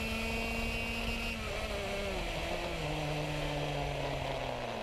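A race kart engine drones steadily with rising and falling pitch as it accelerates, a continuous loud mechanical buzz with no voices.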